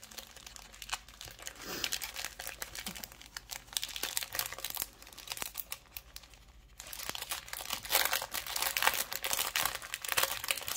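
Small envelopes holding diamond-painting diamonds being handled and crinkled close by: steady rustling and crackling of thin packaging that runs almost continuously, with a brief lull midway.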